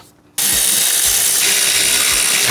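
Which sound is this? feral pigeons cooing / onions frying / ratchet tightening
ratchet tightening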